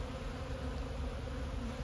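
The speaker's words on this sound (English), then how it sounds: "The bees are busy repairing" Honeybees buzz steadily on a brood comb as they repair it, a close, continuous droning hum with no voices.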